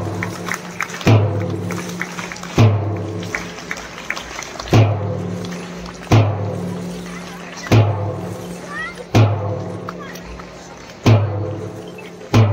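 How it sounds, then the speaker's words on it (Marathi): Brass ghungroo bells mounted on sticks jingle in a schoolchildren's drill, sharp metallic shakes landing in a steady repeating rhythm about every one and a half seconds, each with a bright ringing tail, loud and close. "घुंगरूंचा आवाज तुमच्यापर्यंत येत असेल बघा, म्हणून या घुंगरू काठी म्हटले जातात।"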